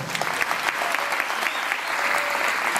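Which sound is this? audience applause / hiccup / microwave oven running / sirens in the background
audience applause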